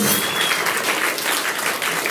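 An audience applauds Wilson Gonzales Ochsenknecht on a German talk show, a dense, steady wash of clapping filling the whole stretch at close, even loudness.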